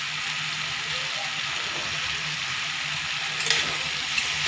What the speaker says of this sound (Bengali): আমার এই ভাজাটা কমপ্লিট হয়ে গেছে।